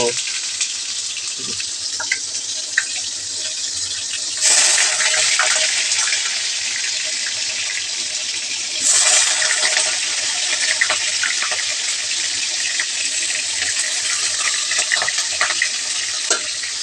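Chicken pieces drop into a hot mix of mustard and soybean oil, then chopped onion, setting off a loud, close hiss that surges twice as more food goes in and stays under a low hum.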